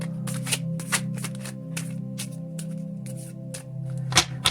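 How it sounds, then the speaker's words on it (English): Tarot cards shuffled close up during a card reading, a run of quick crisp riffling bursts with short pauses between them, steady and fairly soft over a low background hum, with no voices. "I'm going to draw some more cards on this here. Tarot."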